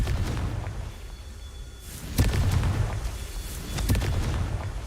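Confringo spell explosions in Hogwarts Legacy, heavy booming blasts striking twice in a few seconds over a dense, rumbling game background.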